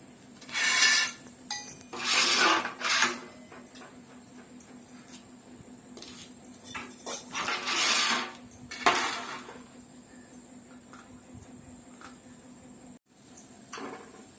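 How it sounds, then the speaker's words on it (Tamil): Drumsticks (moringa pods) being cut with a knife in a home kitchen: a series of rough scraping, rasping bursts, close and fairly loud, coming in uneven clusters over a steady background hum, with no talking. "முருங்காய் அரியுறீங்க"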